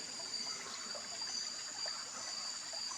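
Clear stream water from Mount Banahaw trickles steadily over large rocks, a soft, continuous, fairly distant babble with no voices.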